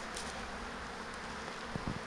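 Honeybees buzz outside their hives in the woods near a road, a steady, faint, continuous drone with a few individual bees passing closer.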